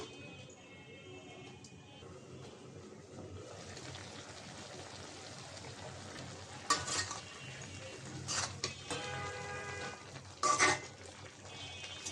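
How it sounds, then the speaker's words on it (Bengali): Cauliflower and potato with catla fish and spices sautéing in a pan make a soft sizzle with occasional loud scraping and clanking stirring strokes against the pot. "মশলার সাথে একটু কষাই নেব।"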